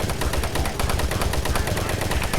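Rapid, continuous gunfire from a weapon in the video game DOOM 3 Lost Missions, a loud, dense stream of shots that fills the whole moment without pause.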